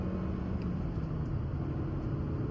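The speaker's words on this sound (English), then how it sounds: "you can hear the engine noise" Steady, droning engine noise from inside a 2024 Maruti Suzuki Brezza VXI accelerating past 3000 rpm, a continuous low rumble with no speech.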